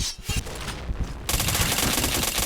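Rapid automatic fire from an AUG A3 assault rifle in the Point Blank shooter game, dense sustained bursts of gunshots filling the whole stretch, louder and more continuous in the second half.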